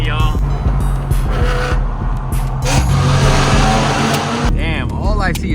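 A convoy of about nine BMW cars drives past in a line, engines rumbling and revving close by, while people talk over the traffic noise.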